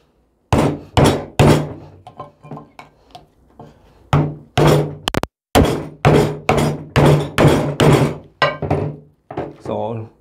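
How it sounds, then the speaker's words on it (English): A screwdriver is hammered into the center of a stuck oil filter. A series of loud, sharp metallic strikes comes in irregular bursts, close by and alone. "What I like to do is just stick a screwdriver right in the center and just hammer"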